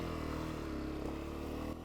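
A Honda CRF300F dirt bike engine chugs close and loud off-road, a steady low thumping that barely changes and eases off slightly at the end.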